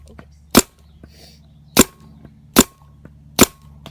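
A Luxe 2.0 paintball gun fires four sharp, loud pops at uneven intervals, with a steady low hum underneath and no speech.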